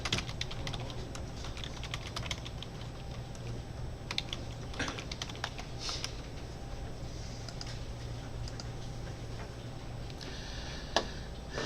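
Steady typing on a computer keyboard while renaming a folder, a continuous close patter of keystrokes over a low background hum, with one sharper key tap near the end.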